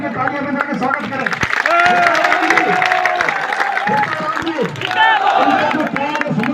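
A rally crowd claps in welcome for a candidate's supporter, with dense sustained applause and cheering under loud amplified speech throughout.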